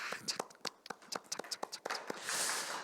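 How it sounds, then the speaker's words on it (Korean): Hand clapping during a year-end parenting forum broadcast: a quick, irregular run of soft, crisp claps, fairly close and quiet, with no talking over them. "여러분들 모두에게 제가 박수를 드리고 싶습니다."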